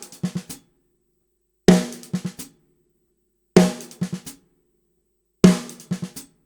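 Short drum pattern repeated four times: a sharp hit followed by a quick cluster of light strokes in a five-stroke roll embellishment, crisp and close with silence between repetitions.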